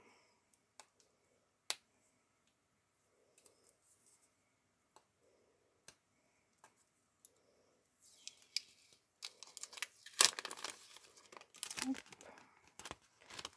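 Sticky tape peeled away in crackly, ripping bursts after a stretch of faint clicks and small handling noises, close by.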